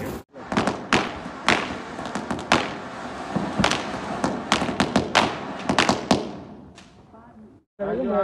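Diwali firecrackers burst in a village, a rapid irregular string of loud sharp bangs and cracks over about seven seconds, with voices talking and exclaiming throughout before a brief pause.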